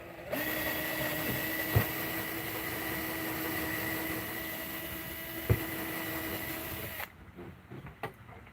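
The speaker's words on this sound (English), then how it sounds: "So I'm drilling through the floor of the boat" A power drill bores through the floor of a jon boat, a steady high whine running for several seconds with two sharp knocks, then cutting off into quieter shuffling and clatter.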